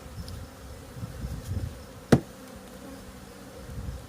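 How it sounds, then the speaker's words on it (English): Honey bees from a nuc being installed into an apiary hive, a soft continuous buzzing with one sharp thump midway as the bees are knocked in. "I'll take and I'll thump the rest of these bees in up top"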